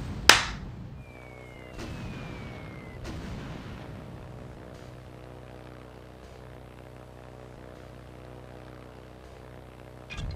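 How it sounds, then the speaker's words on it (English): A bomb drops from a wooden strategic bomber in the game Aircraft Evolution and explodes, one sharp loud blast followed by a couple of softer booms and a steady engine drone, with another blast at the end. "I just got a really good bomb."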